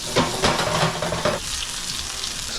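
Shrimp sizzling in olive oil and garlic butter in a hot pan, with close crackling and several stirring or turning scrapes, the frying dropping to a quieter hiss partway through.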